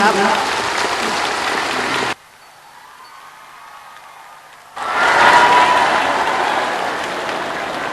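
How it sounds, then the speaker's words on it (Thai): Applause from a crowd in Loei province welcoming the prime minister, dense clapping that stops abruptly for a quiet stretch, then returns louder with voices mixed in. "ขอเสียงปรบมือต้อนรับนายกรัฐมนตรีคนแรก"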